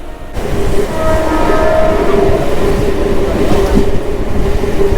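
A Diva-Roha MEMU train runs through heavy rain, heard from inside as a steady, loud rolling rumble with tonal whines and faint rhythmic wheel clatter.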